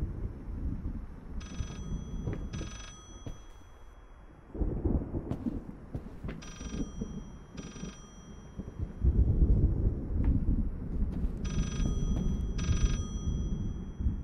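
An old rotary telephone rings in the horror video game Layers of Fear, sounding in repeated paired bursts of bright bell tone over low rumbling ambience, fairly close and alone without talk.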